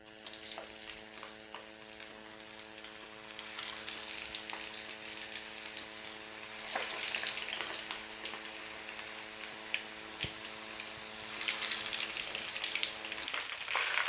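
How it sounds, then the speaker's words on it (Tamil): Mutton kola balls deep frying in hot sesame oil, a steady dense crackling sizzle with scattered sharper pops, holding evenly near and fairly loud throughout with brief louder bursts. "நம்ம ஒவ்வொரு உருண்டைகளாக பொரிச்சு எடுத்துடலாம்."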